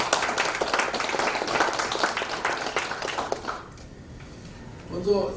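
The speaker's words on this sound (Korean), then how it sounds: "이럴 때 박수 한번 쳐주세요" Applause from the audience at a Korean commemorative lecture marking the 100th anniversary of the March 1st Movement, a dense burst of clapping that fills the first three and a half seconds and then dies away.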